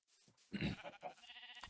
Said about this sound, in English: Over here, I've got some sheep and some chickens.